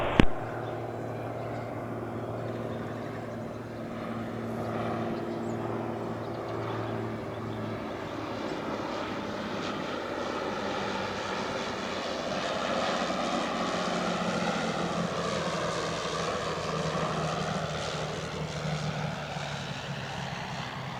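Cirrus light propeller aircraft comes in to land on runway 26 left at Spirit of St. Louis Airport, engine droning steadily and shifting in pitch as it nears and passes, moderately loud with no talk.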